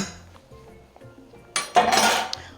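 A spoon clinks and scrapes against a pot of stew peas in short bursts, quiet at first and then a louder clatter near the end.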